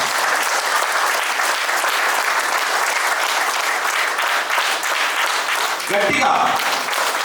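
Sustained applause from an audience at a leadership development program event fills the space, a dense, steady wash of many hands clapping close and loud, with a brief burst of voice near the end.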